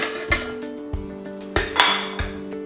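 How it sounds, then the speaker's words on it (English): Butter and sugar being creamed in a mixing bowl for a chocolate cake, with sharp clinks and knocks of utensils against the bowl, spaced irregular taps, close and fairly loud, no talking. "We're going to start by creaming together our butter"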